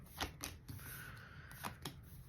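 Tarot cards being shuffled by hand in a quiet room, a series of soft papery riffles and slaps with a few sharper card snaps, close and fairly faint, with no voices.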